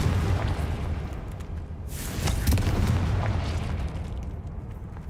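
Confringo fire-blast spell cast in Hogwarts Legacy, a single loud booming explosion near the two-second mark with a rumbling tail, over steady low game ambience.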